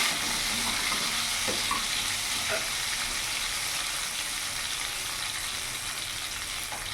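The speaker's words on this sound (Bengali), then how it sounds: "ফোড়নটা একটু ভাজা ভাজা করে নেব" Bay leaf, whole cumin and whole garam masala fry in oil as a tempering for a jackfruit and shrimp dish, a steady hissing sizzle with faint pops, even and unbroken.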